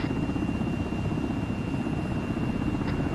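A Chinook helicopter in a video game (Section 7) flies close by, its rotors giving a steady, dense low-pitched thrum that holds at an even loudness throughout, with no voices.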